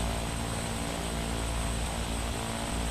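A Pilatus Porter propeller aircraft lands with a loud, steady engine and propeller drone close by, holding an even level throughout.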